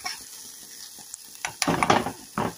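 Onions sizzle in a frying pan as they are stirred, a faint steady hiss under scraping, clattering strokes that grow louder toward the end.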